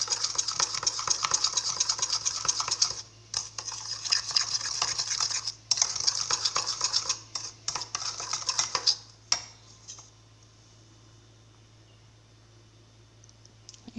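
Milk being stirred into white icing in a bowl for homemade donuts, quick repeated scraping and clinking of a utensil against the bowl in bursts that stop partway, leaving near silence.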